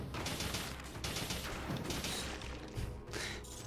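Small automated turrets in the action game Dead Cells fire dense, rapid volleys of shots in bursts with brief gaps between them, loud and close.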